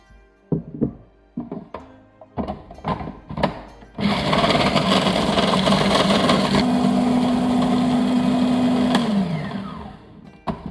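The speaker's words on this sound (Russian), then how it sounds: "Оставшиеся кончики измельчаем блендером." A loud, steady blender whir chopping cake scraps starts abruptly after a few knocks and clatters, holds for several seconds with a rising pitch, then cuts off.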